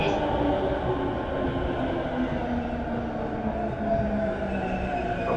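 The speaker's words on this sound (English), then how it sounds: "now we've got to be patient for the train." Rapid train pulling into a station platform at track 6, a steady loud rumble of wheels and carriages with faint tonal squeal, continuous and close throughout.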